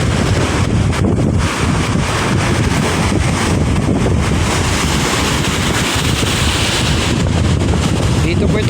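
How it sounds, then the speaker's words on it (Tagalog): Big waves churn at Manila Bay near Tangos, Navotas, under heavy gusting wind that buffets the microphone, a loud continuous roar with a voice faintly beneath. "Ayan po, malalaki na po yung ano ng alon."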